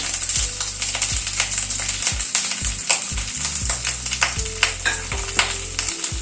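Capsicum and red bell pepper frying in hot oil in a pan, a constant close sizzle punctuated by repeated sharp clinks and knocks of a utensil against the pan.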